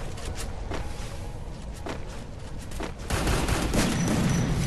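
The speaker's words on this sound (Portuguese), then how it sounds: "olha o outro cara atirando de dentro do gás" An enemy opens fire in a shooter game, sharp gunshots snapping out at an irregular rhythm over a rough ambient bed, and the firing grows louder and denser toward the end.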